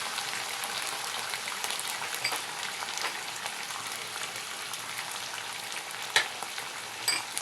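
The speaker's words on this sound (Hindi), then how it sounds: "ये देखें हमारे आलू फ्राई हो रहे थे।" Potato slices frying in a pan with cumin, a continuous close sizzle and crackle of hot oil that holds steady throughout, with a few sharper pops near the end and no talking.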